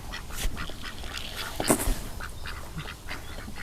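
Several ducks quack close by in bursts at a farm cafe in Chonburi, Thailand, as they are fed, over an outdoor background with occasional faint rustling and movement.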